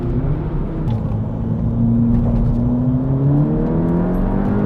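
A 280bhp SEAT Leon Cupra accelerates hard on a track, its engine note climbing steadily in a loud, close drone with a brief dip at a gear change before it rises again. Cabin rumble sits beneath the engine and no one talks.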